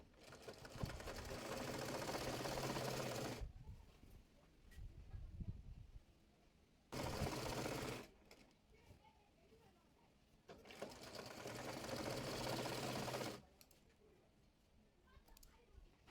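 An electric sewing machine stitches elastic onto palazzo pants in three close, steady whirring runs of about one to three seconds each, separated by quiet pauses and faint handling of the fabric.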